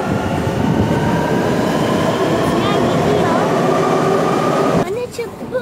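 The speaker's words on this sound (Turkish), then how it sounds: "Arkadaşlar şu an metrodayız." Loud, steady rumble and roar of a subway train in motion, with a faint high whine; the noise drops suddenly near the end as voices come through.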